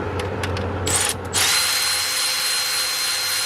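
A power drill whirs with a few short bursts, then runs steadily at a loud, high-pitched whine close by, while the alternator is changed on a 2003 Dodge Ram 1500.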